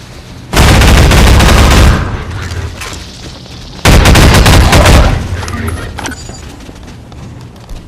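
Pulse rifle fire in Half-Life 2, two loud sustained automatic bursts of rapid shots, each lasting over a second, separated by a pause with echoing tails and scattered impacts afterward.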